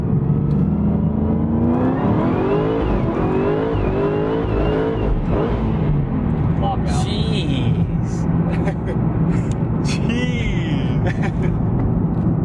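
A car engine revving hard during acceleration pulls from around 2,500 RPM, with rising and falling engine pitch sweeps and a steady drone underneath, while people talk over it throughout.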